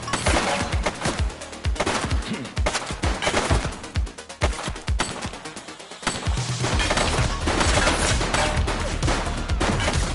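A long exchange of gunfire in the police video game The Precinct, with dense rapid volleys of loud shots and crashing impacts, a brief lull midway, then sustained shooting again.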